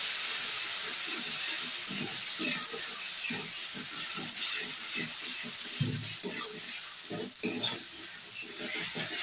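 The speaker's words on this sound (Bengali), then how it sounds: "আবার একটু জল দেবো, আর একটু নেড়ে দেবো মশলাটা" Water is splashed onto fried spice paste for potol kosha, a spiced pointed gourd curry, setting off a continuous hiss and sizzle broken by close, repeated stirring scrapes in the pan.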